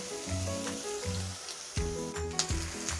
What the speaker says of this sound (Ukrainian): І в нас вже підсмажується.